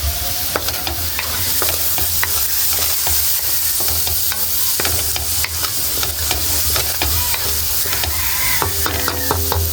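Pansit palabok sauce with black pepper being stirred in a frying pan, loud continuous sizzling broken by repeated scraping and clinking of the utensil against the pan.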